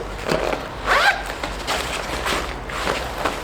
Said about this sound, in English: again, waterproof zippers